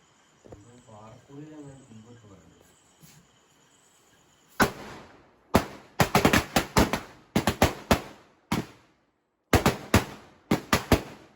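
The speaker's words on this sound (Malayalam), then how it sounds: "ഞങ്ങൾ അടുത്ത പടക്കം പൊട്ടിച്ചപ്പോൾ ചെറുതായിട്ടൊന്ന് പറന്ന് ഞങ്ങളുടെ അടുത്തോട്ട് വന്നായിരുന്നു" Firecrackers burst during a Vishu celebration in Kerala, a rapid series of sharp, loud cracks in quick clusters with short pauses, following a stretch of quiet talk and a faint background hum.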